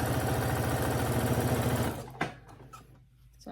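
Sewing machine stitching a scrunchie, a fast steady mechanical whir that stops partway through, followed by a soft click and quiet handling.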